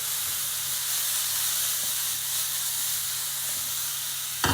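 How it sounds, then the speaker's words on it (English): Onions fry in a pan of sausage fat and olive oil with a steady, dense sizzle and hiss. It is close and constant, and a brief clatter comes right at the end. There is no talk. "I'm going to fry up some onions"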